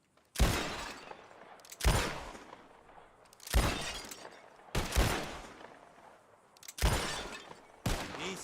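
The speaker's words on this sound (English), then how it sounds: "Whoever shoots more of these bottles wins." Six loud, sharp gunshots in Red Dead Redemption 2 crack out at uneven intervals, each shattering a glass bottle with a bright crash that tails off before the next shot. No one speaks.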